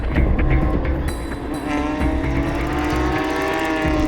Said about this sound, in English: The full field of 17 cars begin their formation laps.